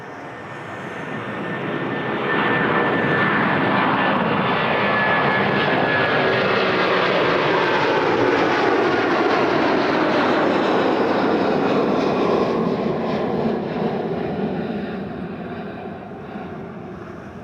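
An airliner taking off at Toronto Pearson airport, its jet engine roar swelling from distant to a loud, steady broadband rush that holds for several seconds before slowly fading as it climbs away.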